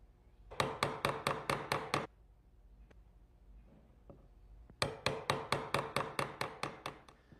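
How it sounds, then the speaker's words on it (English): Sharp chisel squaring up the back corners of a wood piece, heard as two quick runs of about eight crisp, evenly spaced taps each, separated by a short quiet gap. "Now I'll just use a nice sharp chisel to square up the back corners."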